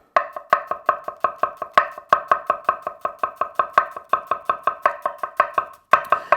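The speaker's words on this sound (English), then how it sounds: "rest your knife up against your knuckle and chop down" A knife chops onions on a board in a fast, steady series of sharp close taps, about twenty-five strikes with one brief pause near the end, no voices.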